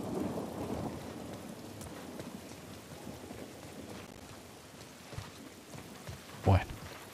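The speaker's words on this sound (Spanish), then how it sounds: "Esa tormenta de miedo" Thunderstorm with rain in the game The Last of Us Part 1: a low, steady wash of rain with soft rumbles underneath and a brief sharp knock near the end, all fairly quiet.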